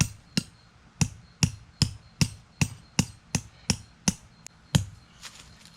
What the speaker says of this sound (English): we'll use the hammer